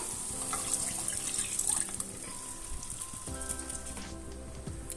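A glass of water pours into a pressure cooker holding dal curry, giving a trickling, splashing stream up close. Steady tonal ringing joins it partway through.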